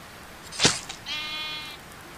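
A single sheep bleats once in a Roblox game, short and clear, followed by a sharp crack and a thin electronic tone; otherwise quiet.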